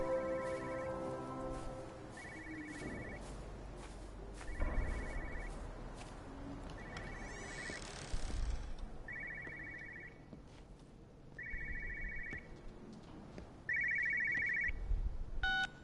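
Telephone ringing in Everybody's Gone to the Rapture, an electronic trilling ring that repeats in regular bursts about every two seconds over low ambient noise, with faint footsteps between rings.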